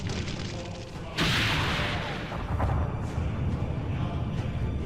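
A sudden loud cartoon anime explosion bursts in and rumbles away, leaving a noisy roar with some softer crackling behind it.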